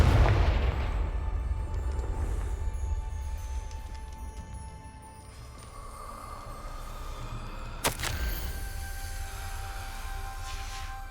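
A fiery blast from the Confringo blasting curse in Hogwarts Legacy bursts loudly at the start and trails off in rumbling debris, followed later by a sharp cracking impact amid ambient game sounds.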